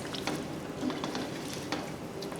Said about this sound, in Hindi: और अब हम इसको भूनेंगे